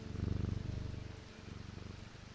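A cat purrs in a video game, a soft, rhythmic rumbling that pulses steadily and fades slightly toward the end, quiet and alone.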